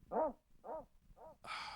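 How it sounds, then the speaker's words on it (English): Sampled dog bark on a Casio SK5 sampling keyboard, three short woofy barks in an even rhythm followed by a burst of hissy noise, played back fairly quietly. "We got to make sure the dogs do, in fact, bark on the Casio SK5."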